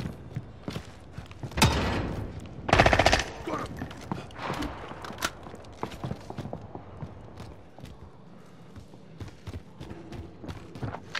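Gunfire in Call of Duty: Modern Warfare, irregular bursts and single shots with two loud clusters early on, then scattered sharper cracks at varying distance over a low ambient rumble.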